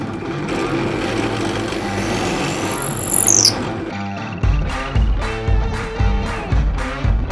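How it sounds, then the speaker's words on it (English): A drill bores a hole in a piece of walnut, starting as a sustained grinding whir with a brief high squeal, then breaking into a series of rhythmic chopping bites toward the end. "I'll transfer this hole that I drill in my walnut over to my shelf"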